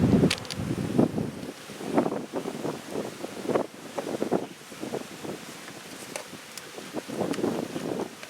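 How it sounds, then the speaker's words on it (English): Wind gusts across a microphone outdoors beside a beehive, loud buffeting rushes rising and falling in uneven bursts with no talk. "A bit windy today."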